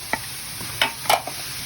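Chili and bell peppers drop into a hot pan with short bursts of sizzling and stirring scrapes, close and brief, with no voices.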